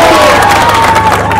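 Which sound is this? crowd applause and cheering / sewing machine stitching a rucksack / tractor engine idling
crowd applause and cheering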